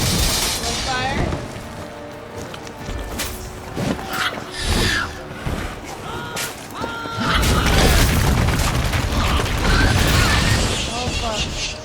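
Bomb blasts in The Witcher 3: Blood and Wine combat ring out as repeated booming bursts mixed with clashing game effects, dense and loud through the clip, with talk over parts of it.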